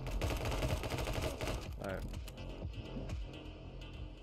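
Rapid gunfire in the action game My Friend Pedro, dense bursts of clattering shots that thin out into scattered single pops, with a voice talking underneath.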